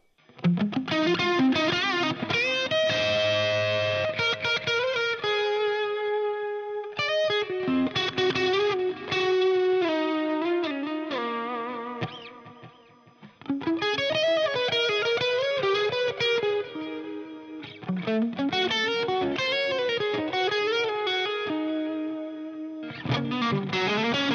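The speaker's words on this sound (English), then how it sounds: "we can use the distortion pedal also with the Marshall, adding some punchiness using the RC booster" Loud electric guitar through a distortion pedal, RC booster and Marshall tone, playing chords and riffs with a punchy, crunchy sound, continuous with brief pauses between phrases.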